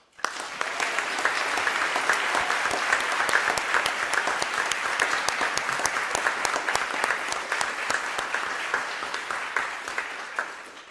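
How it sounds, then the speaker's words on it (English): Sustained audience applause for award winners at a community college district board meeting, many hands clapping evenly and loudly for about ten seconds before tapering slightly at the end. "Please join me in a round of applause for all our winners."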